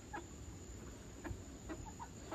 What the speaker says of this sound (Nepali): न्युकुङले चाहिँ यहाँ कुखुरा पालेको छ है